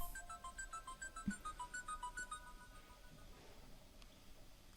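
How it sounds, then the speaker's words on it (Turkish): A mobile phone ringtone plays a faint, bright, repeating melodic pattern of short tones that fades out after a few seconds in a quiet room. "Telefonum çalıyor buradayım."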